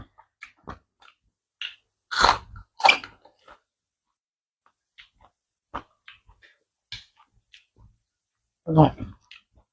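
Someone eating grilled fermented pork with crispy skin: a few loud crunchy bites and scattered soft chewing clicks, close up, separated by quiet gaps.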